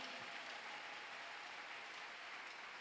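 A church congregation applauds at a sermon, steady dense clapping from many hands that fills the room evenly and stays faint throughout with no voices.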